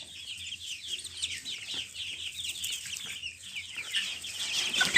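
A group of young roosters with trimmed beaks cluck and chirp continuously at close range, a busy overlapping chatter of short, high calls.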